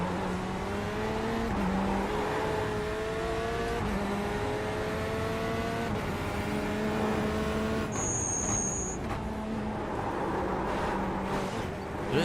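A race car in a sim-racing game drones through engine revs and gear changes, with a brief high-pitched brake squeal standing out midway, all close and continuous.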